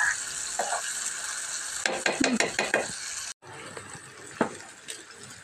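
Tomato and onion pieces cooking in a pan, with a steady sizzle and several sharp clinks of a spoon stirring against the pan midway, then a quieter simmering hiss after a brief break.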